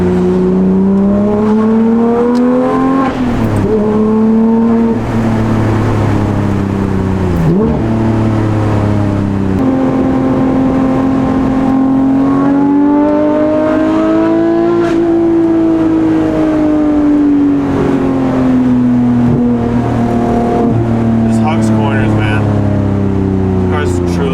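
A Porsche GT3 engine, naturally aspirated with a manual gearbox, revs loudly, rising and falling in pitch through several gear changes, close and sustained.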